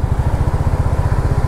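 A Royal Enfield Hunter 350 motorcycle engine thumping with a fast, regular low pulse, loud and close, with no other sounds.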